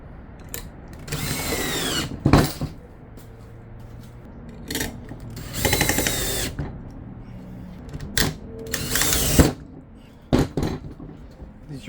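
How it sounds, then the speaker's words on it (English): A power screwdriver driving screws to tighten a galvanized metal pipe strap, several short whirring bursts of the motor with pauses between, plus clicks and rubbing as the strap is fitted, close and loud. "you want to make sure you tighten it down with some screws"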